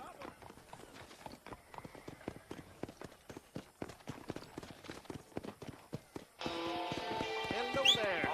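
Hooves clip-clop at a steady run in a Western open-world video game, the sharp hoof strikes close and rhythmic, with a voice speaking over them and the scene getting louder and fuller toward the end.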